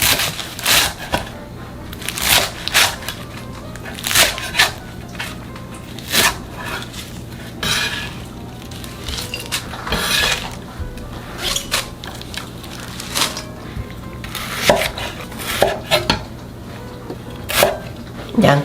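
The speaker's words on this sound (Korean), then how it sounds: "먹기 좋은 크기로 4 내지 5cm 정도로 자를게요" A knife chops garlic chives into 4 to 5 cm lengths on a cutting board, giving sharp, irregular thunks in short bursts over a low, steady background hum.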